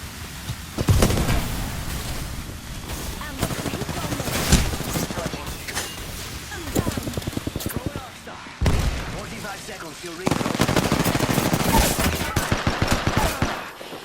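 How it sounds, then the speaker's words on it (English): Repeated bursts of automatic gunfire in the Apex Legends video game, dense rattling volleys with pauses and heavy impacts, sometimes loud and close, with a player talking over the shooting. "I am taking fire, friends."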